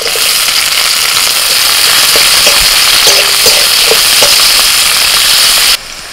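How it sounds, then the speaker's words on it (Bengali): Chopped onion frying in hot oil with bay leaf, a steady loud sizzle with faint stirring scrapes, cutting off sharply near the end. "পেঁয়াজটা একটু ভেজে নিয়ে দিয়ে দিচ্ছে আদা আর কাঁচা লঙ্কা বাটা"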